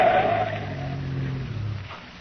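A car swings around a curve and pulls off onto the roadside, its engine humming low and steady with a brief tire-scrub sweep near the start, close and fairly loud throughout.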